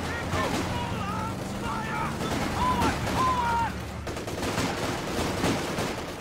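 Gunfire in the video game Company of Heroes 2 during a 4v4 match, a dense crackle of shots running continuously through the scene with a whistling tone overhead and a voice talking over it.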